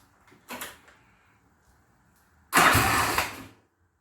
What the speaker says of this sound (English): I'm going to turn the bike over a few times